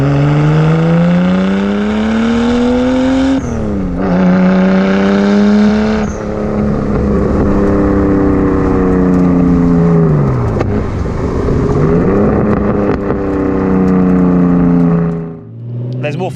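A Nissan Skyline R34 GT-T engine revs up and down repeatedly, its harmonic growl rising and falling loudly and close before cutting off near the end.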